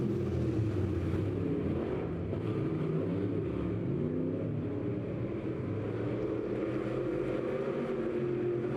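Race cars roaring around a dirt oval track during a heat race, a continuous loud engine drone with shifting revs heard from a distance, steady throughout with no clear talk.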